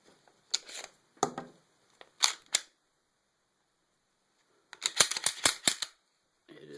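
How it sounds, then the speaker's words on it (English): A Glock pistol is cleared and safety-checked, producing bursts of crisp mechanical clicks and metallic snaps in several separate groups, with a quick run of rapid clicks toward the end. "let's make sure the weapon is safe"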